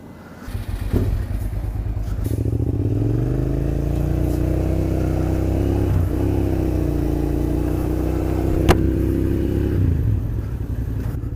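A 2000 Suzuki SV650 motorcycle runs steadily during a ride, its engine holding a loud, even drone that rises in pitch with throttle, then settles, with a brief clack partway through.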